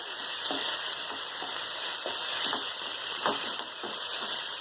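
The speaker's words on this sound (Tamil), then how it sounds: "இது நல்லா பச்சை வாசம் போகிற வரைக்கும் நம்ம வந்து வதக்கினா போதும்" Four tomatoes and two large onions sautéing in a pan, a steady close sizzle with repeated soft scrapes and stirs of a spoon at regular intervals.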